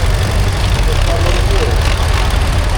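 A Universal 3-cylinder diesel tractor engine runs steadily at a show parade, a low rumbling drone heard close and continuous beneath someone talking.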